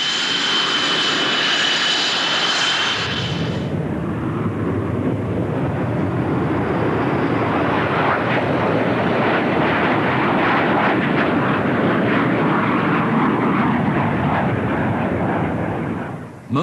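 A Hornet jet aircraft roars in flight during a test sortie, a loud, steady broadband engine rumble that follows a brief high whine at the start and stays continuous and close.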